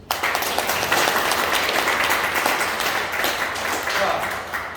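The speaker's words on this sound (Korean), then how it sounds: "박수." A church congregation in a Korean church in Clark, Philippines, breaks into sustained applause, a full, steady wash of many clapping hands lasting several seconds with some voices mixed in.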